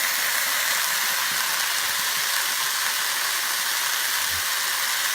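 Kebabs sizzle in hot oil with an onion mixture, giving a steady, loud, unbroken hiss of frying that carries on alone throughout.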